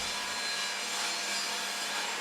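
A saw cuts a groove through a wooden test piece during a mudroom build, a continuous even rasping stroke that fills the short span without voices.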